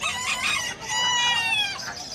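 A Rhode Island Red rooster crows loudly and close, a single long drawn-out call with a strained, wavering tone.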